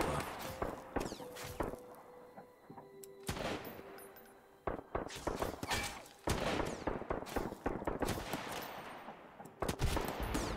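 Repeated gunfire in the survival video game Sunkenland, bursts of sharp shots in irregular clusters with some footsteps and thuds between volleys, fairly loud and close.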